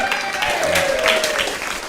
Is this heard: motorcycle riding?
no